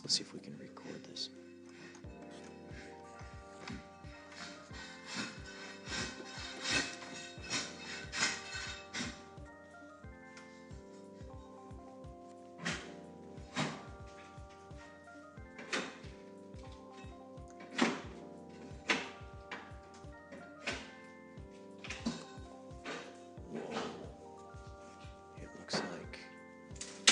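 Hardwood flooring going in at the apartment next door sounds as muffled, irregular thumps and knocks, some in quick bursts, heard through the wall alongside faint low voices.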